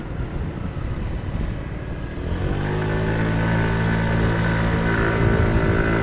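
Motorcycle fitted with a big bore kit rides along, its engine droning steadily with rising harmonic pitch as it pulls away after a quieter, rougher opening, close and loud with wind noise.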